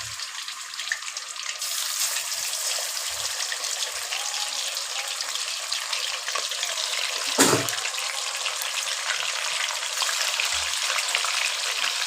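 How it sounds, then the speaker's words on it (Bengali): Chicken pieces fry in hot oil for a wedding-style Indian chicken recipe, a steady close sizzle and crackle running throughout with a few soft clanks of utensils, no talking. "এই যে চিকেন দিয়ে দিলাম, চিকেনগুলো আগে ভেজে নেবেন।"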